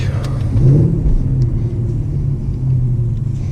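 A deep, steady Mercedes CLS 55 AMG engine rumble rising slightly as it revs while drifting in winter, heard close with a brief voice underneath.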